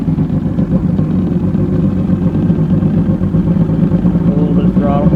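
An Evinrude Starflight 100hp outboard motor fires up and runs at a loud, steady, close-up idle with a dense, even drone throughout.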